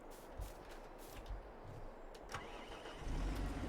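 A tractor engine in the video game Farming Simulator 22 cranks and catches, rising from a low rumble to a louder steady idle near the end, with no talking.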